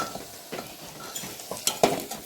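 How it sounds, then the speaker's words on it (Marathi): Onion fries in a pan while a spoon stirs it in quick, light scrapes and knocks against the metal over a soft, steady sizzle. "छान आपला कांदा तळत आला बघा मस्त."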